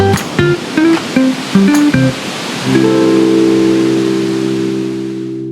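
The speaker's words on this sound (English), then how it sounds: "It is huge, big, massive waterfall." A huge, massive waterfall roars as a steady broadband rush, with loud tonal droning sounds layered on top through most of the stretch.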